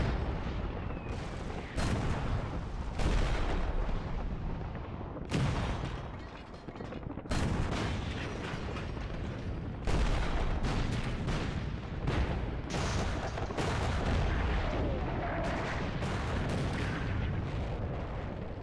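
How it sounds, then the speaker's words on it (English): British artillery barrage shelling during World War I, a massive bombardment of heavy booms and rumbling blasts that pile up almost without a break, loud and sustained. "the British artillery unleashes a barrage of 4 million shells"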